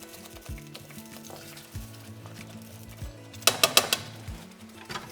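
A spoon stirs ox cheek stew with tinned tomatoes in a pan, soft wet scraping under a low simmer, then a quick burst of sharp clinks against the pan near the end.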